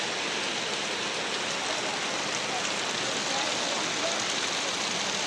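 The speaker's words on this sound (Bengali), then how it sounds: "এই যে সবাই দেখো বৃষ্টি পড়ছে, কি জোরে বৃষ্টি" Heavy rain falls beside a temple where many motorbikes are parked, a dense, even hiss that stays loud and unbroken throughout with no voices over it.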